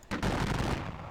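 Rifle fire in a Civil War wargame video game sounds as one short, dense crackling volley, loud and close, lasting about a second with no talk over it.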